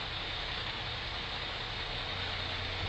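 Car engine accelerating slowly during a driving lesson, a steady continuous hum with low rumble, fairly close and even in level, no talk over it.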